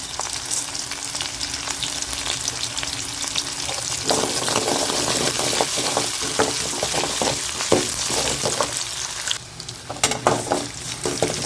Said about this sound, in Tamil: வெங்காயம் கொஞ்சம் வதங்கட்டும் வெங்காயம் வதங்கிட்டு இருக்கு